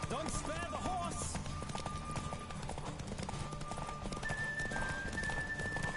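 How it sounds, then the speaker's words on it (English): Galloping hooves of Roach, the horse in The Witcher 3, pounding in a quick, continuous clip-clop under in-game music and sporadic voices, with a brief whinny-like sound near the start. "Don't spare the horse!"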